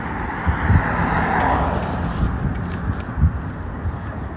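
White SUV passing on a road, heard as a loud broadband whoosh of tyres and engine that swells and fades, with steady traffic rumble behind and no talking.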